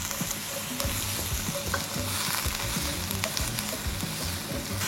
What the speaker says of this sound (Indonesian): Ini pakai minyak zaitun, dikit aja. Kita tumis sebentar guys.